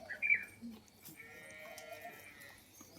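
A goat bleats in a drawn-out wavering cry, fairly faint, after a brief sharper call at the start.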